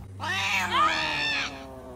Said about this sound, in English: before she can find it, she's spooked by a cat